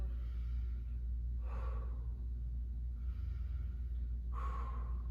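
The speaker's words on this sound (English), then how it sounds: "Good breathing too, we're not rushing it." Two slow, deliberate breaths during a side plank exercise, each a strong close exhale through the mouth, evenly spaced over a steady low background hum, with no talking.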